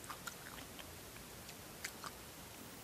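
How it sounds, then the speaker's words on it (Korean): Someone eats corn during a Korean noodle and spaghetti mukbang, with soft close chewing and a few crisp bites spread across a quiet few seconds, no talking. "옥수수도 잘 익었나 먹어볼까요?"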